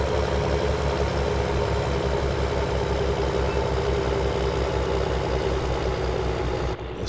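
A tractor in the Farming Simulator game Greenwich Valley drones steadily under strain while hauling a loaded grain trailer, its low engine rumble holding constant and close throughout with no talk, dipping briefly near the end.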